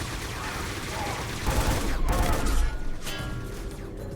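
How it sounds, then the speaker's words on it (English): Burst-fire weapon shooting in a video game, heard as a loud, dense clatter of rapid shots that swells in the middle, with a voice speaking over it. "This is a burst fire weapon. It fires in bursts."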